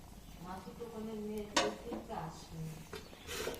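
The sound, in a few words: covering the cooking pot with a lid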